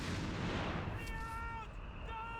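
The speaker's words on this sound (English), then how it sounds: "75mm barraging here." A 75mm artillery barrage in the WWII strategy game Company of Heroes 3 during a 1v1 match, a loud booming blast that rumbles and decays, followed by lingering tones over continuous battle noise.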